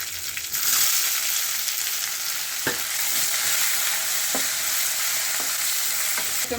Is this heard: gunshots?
no